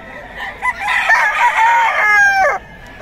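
A Boston White fighting rooster at a market crows loudly and close, one long drawn-out call lasting about two seconds with a falling tail, with no talk over it.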